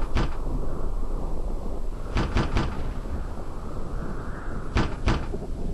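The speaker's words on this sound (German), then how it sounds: "Langsam stört es, dass Sie ständig klopfen." Several hard knocks on a door in the game The Apartment, a single thump followed by a quick triple rap and then a double rap, loud and close over a steady background hum.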